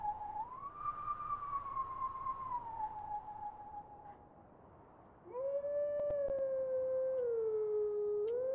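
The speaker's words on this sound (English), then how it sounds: "Love doing the howling." A wolf howl from the video game The Legend of Zelda: Twilight Princess, a long sustained wavering tone that dips, breaks briefly, then resumes at a lower pitch and holds loud and clear with no talking over it.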